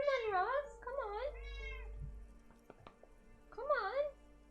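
A house cat meows several times, clear drawn-out meows close by, with a quieter voice and some low rumbling between the calls.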